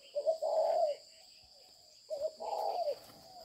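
Caged breeding birds give two soft, cooing call phrases separated by a short pause, close by, over a faint steady high-pitched hum in the background.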